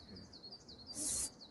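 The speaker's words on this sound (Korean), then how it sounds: "아, 저 새소리 봐." Birds call in a forest recreation area at Danyang around sunrise: faint, repeated high chirps spaced through the moment, with a brief louder hiss partway through and no talking.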